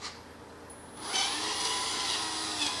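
Electric motor of a 1/14 scale RC Volvo FMX 6x4 hauler truck, a Double E E013, whirring into a steady high-pitched drive after a quiet second, running slow and torquey at close range with no talk.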